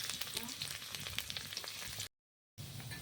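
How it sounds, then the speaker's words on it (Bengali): Chopped onion fries in hot oil with cardamom, cinnamon and green chilli, a faint crackling sizzle with scattered pops, briefly cut to silence before resuming. "পেঁয়াজ ভাজা হয়ে গেছে"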